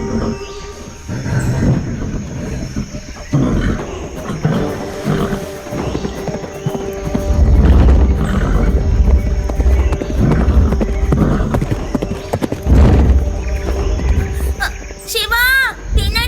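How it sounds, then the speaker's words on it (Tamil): A bull charges in a movie scene, its running hooves pounding as a low, rumbling drumming beneath music and other effects, growing heavier midway and ending in a sharp high screech. "பின்னாடி பாரு, ஒரு புல் வந்துட்டு இருக்கு. சீக்கிரம் ஓடுங்க."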